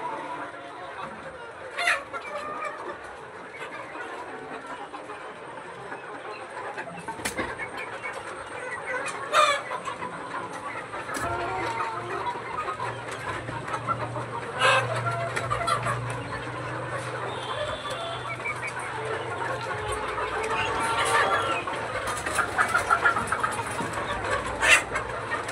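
A flock of chickens and roosters clucks steadily, with occasional crows rising above the busy chatter, close and fairly loud, and a person talking intermittently underneath.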